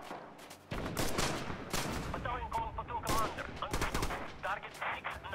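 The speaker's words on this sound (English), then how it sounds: "Calling in artillery." Artillery fire in Red Orchestra 2 arrives as a string of loud, sharp blasts and rolling impacts, with several explosions close together, and nearby gunfire in the battle mixed in.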